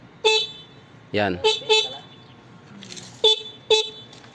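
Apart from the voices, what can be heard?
stock e-bike horn honking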